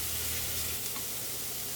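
Minced garlic and onions sizzle softly in a pan, a continuous even hiss with no talking.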